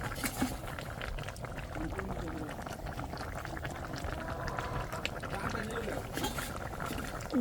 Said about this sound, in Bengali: আমার মাছটা হলো মোটামুটিভাবে রান্না শেষ এখন ধইনা পাতাটা দিয়ে দিলাম